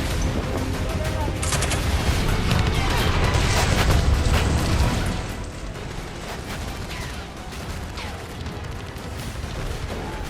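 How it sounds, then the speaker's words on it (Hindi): Rocket launcher and gunfire barrage in the Panjshir mountains, heavy booming bursts and rumbling fire that stay dense for about five seconds, then ease into a quieter, still-busy battle din, with voices mixed in. "वहां अचानक रॉकेट लॉन्चर से हमला हो जाता है"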